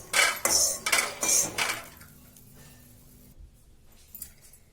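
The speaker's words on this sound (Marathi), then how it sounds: "आता आपण हे एका प्लेटमध्ये काढून घेऊ" Freshly roasted peanuts are tipped from a pan onto a plate: a few quick bursts of rattling and clattering metal in the first two seconds, then near quiet with a faint clink near the end.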